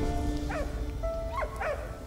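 A dog in the World War I video game Valiant Hearts gives a few short yips and whimpering barks, three quick calls over a low ambient game backdrop.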